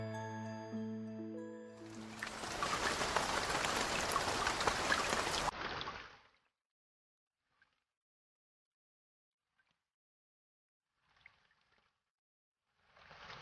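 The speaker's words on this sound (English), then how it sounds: "It rained heavily the next day." A burst of heavy rain comes after a short musical tone, a loud broadband rush lasting about four seconds. It stops abruptly and is followed by near silence with a few faint patters.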